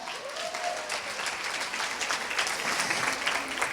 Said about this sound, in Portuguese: Aplausos para Madonna